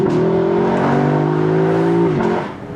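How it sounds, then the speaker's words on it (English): A Lexus LC500 convertible's naturally aspirated V8 revs with the top down, a loud, close engine note that holds a rising tone, steps up in pitch near the end, then fades. "getting to hear that V8 with the top down is glorious"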